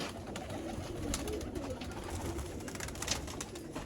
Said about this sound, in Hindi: ये सलारे पल्लों में कबूतर है